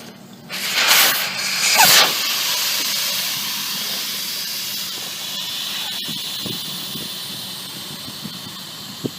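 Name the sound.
air hissing out of ATV tire valve stem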